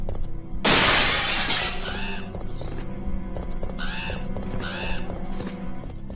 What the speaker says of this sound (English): The bus window sometimes shatters here and it's gonna be loud.